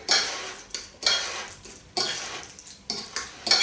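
Spoon scraping and knocking against a bowl while guacamole made with black salt is stirred, a steady run of close clinks and scrapes with no talk.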